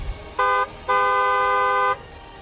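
A car horn sounds two clear honks, a short toot followed by a longer sustained blast, loud and close.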